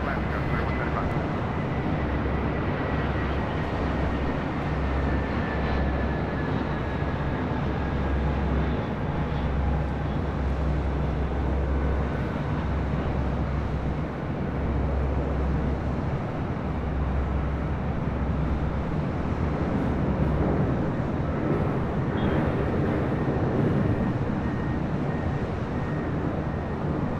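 A Porter Airlines jet on approach into Los Angeles International Airport produces a continuous broadband jet roar with a faint whining tone sliding downward, steady and fairly loud throughout.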